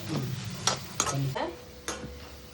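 Onions fry in oil for Pallipalayam chicken while a spatula stirs and scrapes the pan, a continuous close sizzle broken by several distinct scraping strokes at irregular intervals.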